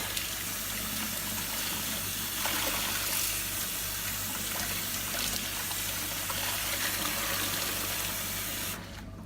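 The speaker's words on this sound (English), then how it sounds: "I'm going to let some cold water over it to rinse it while the water drains out of the sink." Cold tap water runs steadily into a sink while it drains, a continuous close splashing rush that stops near the end.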